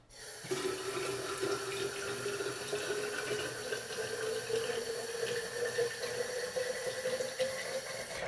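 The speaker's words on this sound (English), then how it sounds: "I'm just filling up my water bottle." An indoor tap runs a steady, strong stream of water into a water bottle. The rushing flow is continuous and fairly quiet, with no voices.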